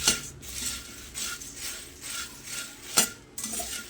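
A spoon scrapes and stirs Kashmiri red chili powder through puffed rice in a pan, with soft, uneven rustling strokes and a couple of sharper metallic scrapes.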